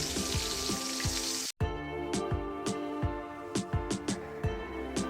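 Boiled peas tipped into a hot, nearly cooked spice masala for Bengali ghugni, giving a steady close sizzle with scattered sharp ticks and crackles and a brief drop-out partway through.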